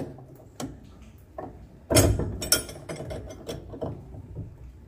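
A wrench works loose a bolt on the control arm of a 1999 Chevrolet Corsa 1.6, giving a few close, sharp metallic clicks and clanks with a heavier burst of effort noise in the middle.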